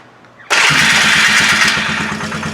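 A 2002 Polaris Magnum 325 ATV with a freshly rebuilt carburetor cranks and fires abruptly, then settles into a loud, close, steady rhythmic idle with a rough putter.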